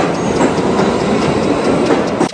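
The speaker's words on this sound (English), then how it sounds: "Just missed the train." Subway train at a New York station pulling away, a loud continuous roar of wheels and rail clatter filling the whole stretch, with a brief dip near the end.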